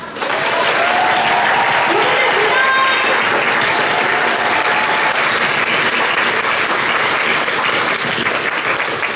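Dense, steady applause from a theatre audience at the curtain call of the musical Song of the Sun, sustained and loud throughout.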